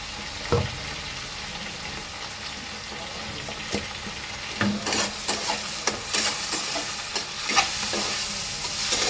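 Apple snails with turmeric and salt fry in hot oil in a wok, giving a soft steady sizzle broken by sharp spoon scrapes and knocks that come more often toward the end.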